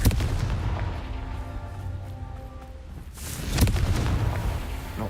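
A Confringo fire spell blast in Hogwarts Legacy, heard as a sharp, loud burst a little past the midpoint that rolls into a rumbling tail over a dense background of game sounds.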